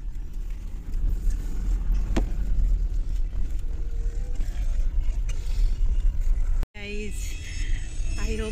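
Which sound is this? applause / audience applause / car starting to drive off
car starting to drive off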